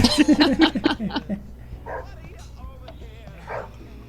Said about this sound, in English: I'd rather hear a dog bark.